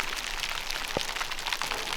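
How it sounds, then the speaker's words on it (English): Rain falls steadily on an outdoor building site for an off-grid cabin, a dense even hiss of drops with one sharper close tap, and no talking. "but it is raining."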